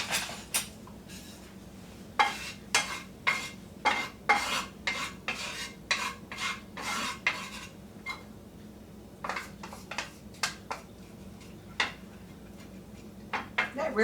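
Oil being stirred around an unheated skillet for copycat P F Chang's lettuce wraps, a string of sharp utensil scrapes and clinks against the pan in irregular bursts over a quiet background.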